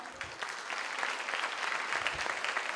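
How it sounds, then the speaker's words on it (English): Audience applause at the Miss World Guam beauty pageant, a soft, distant, steady patter of many hands clapping throughout. "Let's give a round of applause for Daniel"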